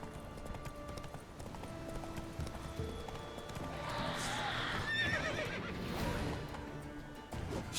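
Horse galloping in The Witcher 3, a steady clip-clop of hooves with a brief neigh midway, heard over game ambience and a faint voice.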